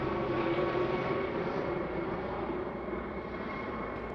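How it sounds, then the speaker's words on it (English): Helicopters flying overhead in Trier, Germany, give a steady, loud rotor-and-engine drone that holds for the whole stretch and fades only slightly, with no talking. "Helicopters."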